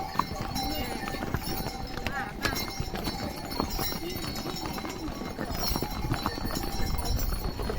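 Horse hooves clip-clop steadily on the descent from Kedarnath toward Gaurikund late in the day as snow begins to fall, with sharp repeated strikes over constant outdoor background noise.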